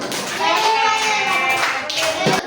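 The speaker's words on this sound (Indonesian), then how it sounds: "semuanya kasih tepuk tangan untuk kelompok" A class of students gives a round of clapping for a group after its presentation, dense steady hand claps filling the room for a couple of seconds, with children's voices mixed in.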